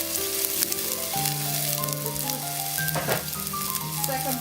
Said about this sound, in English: first of all, we need to fry our onions